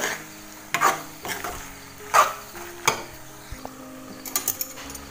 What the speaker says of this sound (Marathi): आता हे व्यवस्थित जरा ना मिक्स करायचं आणि 1-2 मिनटं फक्त झाकून ठेवायचं